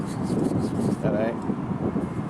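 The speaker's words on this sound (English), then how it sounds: "Sorry about the shake in the wind. Got a lot of wind." Wind buffets the microphone outdoors beside a 308 mobility scooter, a steady low rumble across the whole clip with a brief faint tonal whine in the middle.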